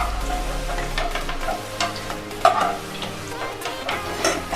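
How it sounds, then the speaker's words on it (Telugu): Onions and green chillies fry in hot oil for a tamarind bitter gourd stew, a steady sizzle under repeated stirring scrapes, with a louder clatter midway and no talk. "ఇప్పుడు అదే నూనెలో కొంచెం ఈ ఉల్లిపాయలు, పచ్చిమిరపకాయలు కూడా వేసుకోవాలండి."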